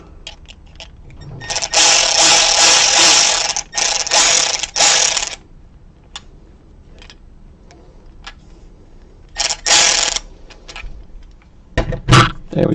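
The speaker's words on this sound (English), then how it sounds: "then tighten that clamp down" A ratchet tightens a hose clamp on the fuel pump line of a Ford Festiva during an E85 high-flow pump conversion, with bursts of rapid, close, loud clicking separated by quiet gaps, then sharper single clicks near the end.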